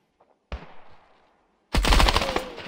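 Gunfire in the mobile shooter Standoff 2 during a competitive match: a brief shot with a fading tail, a short pause, then a loud sustained burst of rapid automatic fire, close and dominant.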